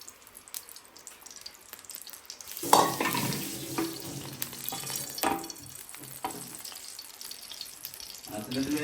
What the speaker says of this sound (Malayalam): കാച്ച എണ്ണ ഒഴിച്ചാണ് ഞാൻ മീൻ വറക്കുന്നത്